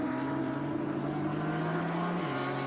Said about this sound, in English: I like these bright Porsches.